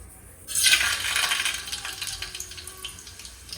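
A tempering of seasoning hits hot oil in a pan with a sudden burst of crackling sizzle. The sputter is loudest at first, then settles into a softer, continuous frying hiss with scattered pops.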